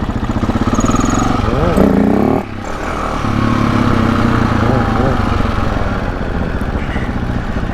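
A motorcycle accelerating hard in first gear, a loud, close engine rising in pitch, briefly dropping, then revving up again; voices can be heard over it.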